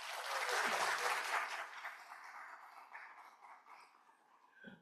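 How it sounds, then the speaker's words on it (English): A round of applause from a conference audience at an education event, swelling quickly to a full burst of clapping and then fading gradually into scattered claps. "Let's just give a round of applause."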